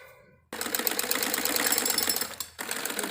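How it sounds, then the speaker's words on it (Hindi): Domestic sewing machine stitching a topstitch seam along a waistband being attached to a salwar, a steady fast mechanical whirr with rapid needle chatter, running close and loud for about two seconds before stopping and briefly restarting. "अब हम इसके ऊपर दबी हुई सिलाई लगाते हैं बेल्ट के ऊपर इस तरीके से"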